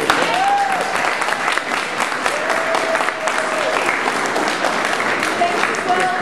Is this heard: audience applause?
yes